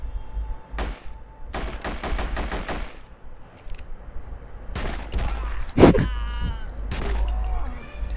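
Gunfire from a weapon in The Punisher PC video game, several rapid bursts of shots in quick clusters separated by short pauses, loud and close, with faint background game sound between them.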